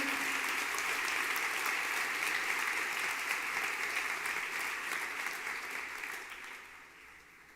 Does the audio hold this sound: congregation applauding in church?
yes